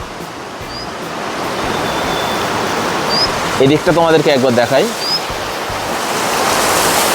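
Steady rushing roar of Inderni Waterfall in Darjeeling, constant and broad, with a person speaking briefly over it.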